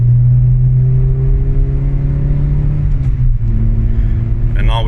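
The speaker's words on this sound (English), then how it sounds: "So this is what it's like from inside the cabin with the windows closed in third gear." Inside the closed cabin of a car with its exhaust resonator deleted, a steady low engine drone holds in third gear and shifts pitch slightly as revs change, loud and constant.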